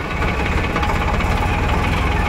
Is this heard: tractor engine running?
yes